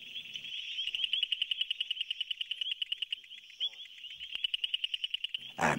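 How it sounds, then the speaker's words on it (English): Night chorus of male greater leaf-folding frogs calling from reeds, a dense, rapid train of high pulsed trills, loud and close, running continuously with brief gaps and a few other faint calls. "frog voices swell in a night chorus. Only the males call, advertising their territories"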